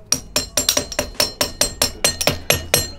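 A mallet strikes a BMX crank and bottom bracket in a steady series of about a dozen sharp, close, ringing metallic knocks, roughly four per second.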